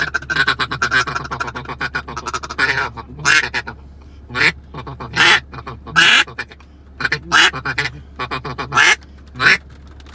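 A Driftless custom double-reed duck call blows a run of raspy, crisp quacks, loud and close, in short bursts and clusters separated by pauses, with a little talk between the calls.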